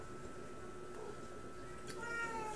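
A house cat meows near a kitchen where okra and dried anchovies are being cooked, with a soft steady background hum and a rising tonal cry near the end.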